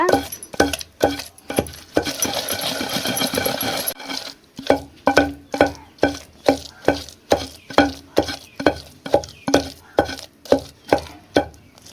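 Pounded red chillies and tamarind pickle are mixed and pounded by hand. A rough grinding stir comes first, then a run of loud, evenly spaced thuds from the pounding, close and without talk.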